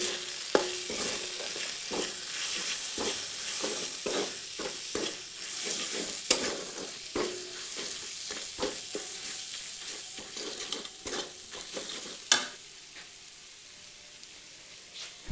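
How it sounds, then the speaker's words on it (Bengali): Masala spices with garam masala fry in a pan with a continuous close sizzle, punctuated by repeated sharp scrapes and taps as a utensil stirs through the mixture. No voices. "গরম মশলা, দিয়ে আরও কিছুক্ষণ মশলাটিকে ভেজে নিচ্ছি"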